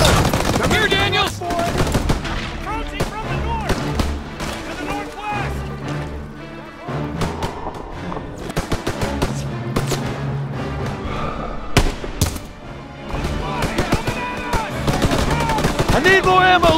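Bursts of machine gun and rifle fire from a Call of Duty WW2 battle against snipers, loud rapid volleys with sharp single shots and impacts, mixed with shouted voices and battle noise.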